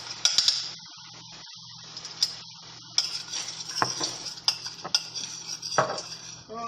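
A metal utensil scrapes and taps against a pan as minced garlic is stirred, giving irregular clinks and scrapes over a faint sizzle, quiet between strokes.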